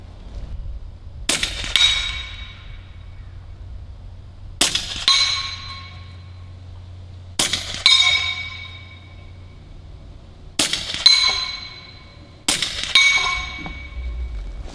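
Five sharp rifle shots each ring off a swinging steel Texas Star target, a crack followed by a bright metallic clang that decays, spaced a few seconds apart, loud and close with no talk.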